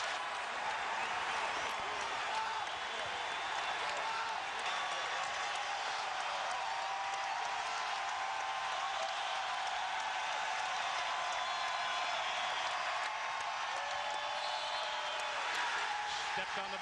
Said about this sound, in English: this crowd is just going out of their mind